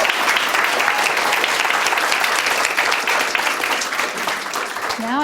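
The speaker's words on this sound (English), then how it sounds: "One more round of applause for Maria," A seated audience gives a warm, steady round of applause after a talk, dense clapping holding at an even level from start to finish before fading at the very end.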